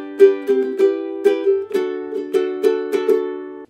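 Ukulele strummed in the down-up pattern of a song, moving through chords including D. About ten bright, even strums ring out alone, close and clear, over nearly four seconds.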